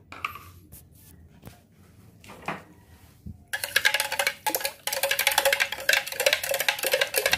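Quiet taps and clicks, then a steady, busy scraping and swishing as sugar is stirred briskly into water in a container, close and fairly loud.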